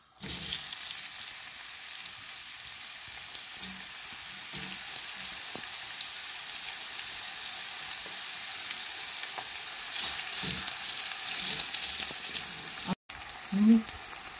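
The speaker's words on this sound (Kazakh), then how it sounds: "Енді пиязды жақсылап қуырып аламыз" Onions frying in hot oil in a pan, a steady close sizzle lasting throughout with occasional soft stirring clicks and a brief break near the end.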